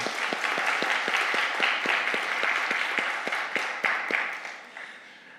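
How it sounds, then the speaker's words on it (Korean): A church congregation at a Sunday service gives hearty applause for its serving members, a full wash of many clapping hands with a few louder, regularly spaced claps standing out before it slowly fades. "우렁찬 박수로 저희 감사의 뜻을 표해 주시면 감사하겠습니다"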